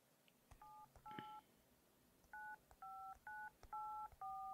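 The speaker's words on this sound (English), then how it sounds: "Okay, we got a phone going." A telephone is dialed in the video game Resident Evil 7, a quick series of about ten distinct touch-tone beeps in an irregular rhythm, each short and clear against a quiet background with faint clicks between them.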